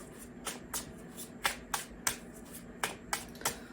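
Tarot cards being shuffled and handled in a quiet room, a run of about a dozen crisp, quick riffling snaps at a fairly even rhythm, close and clear with no talking.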